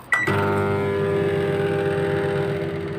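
Microwave oven cooking bananas: a short beep, then a steady loud hum with a low mechanical drone that holds evenly, no talking.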